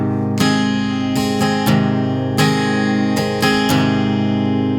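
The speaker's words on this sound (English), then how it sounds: "If I play it wide open without the palm on the bridge," Acoustic guitar strummed wide open without palm muting, full ringing chords with repeated bright strum accents in a steady rhythm, close and unaccompanied.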